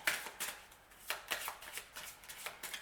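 Tarot cards are shuffled up close in quick, light riffling bursts, a soft papery rhythm of repeated slaps and flutters, quiet and without talk.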